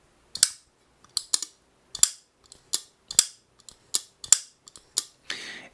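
A series of quick, crisp metallic clicks from a Holt Bladeworks Specter Prestige V2 pocketknife blade opening and snapping shut repeatedly, close up, ending in a brief scraping rustle.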